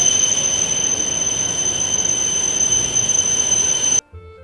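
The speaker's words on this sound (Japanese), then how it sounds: "通過する列車はこの駅320キロで通過していきますからね" A Shinkansen bullet train roars past the narrow platform of Shin-Hanamaki station at high speed, a loud broad rushing wash with a steady high whine, cutting off abruptly near the end.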